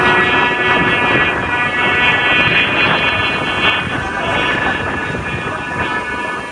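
A steady, layered humming drone with multiple sustained tones from a flute fitted to a flying kite, mixed with heavy wind rumble buffeting the microphone.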